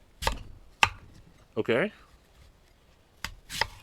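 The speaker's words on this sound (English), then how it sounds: "since the apple is going to be cleaner to cut, let's cut that first" A Ferrum Forge kitchen knife chops through an apple on a board, giving a few crisp, separate thunks and cuts spaced out over a few seconds, close and fairly loud. A voice speaks briefly between the cuts.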